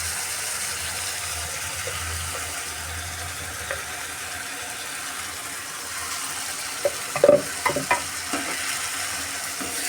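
A green paste of mint, coriander and green chillies being mixed into chicken frying in a pan, with a continuous soft sizzle and a brief cluster of utensil clatters near the end.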